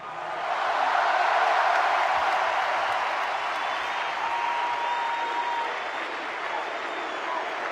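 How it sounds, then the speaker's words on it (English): An arena basketball crowd applauds after the France v Serbia third-place game at Eurobasket 2015, a broad, sustained roar of clapping that swells early and eases slightly near the end. "vous pouvez vous applaudir"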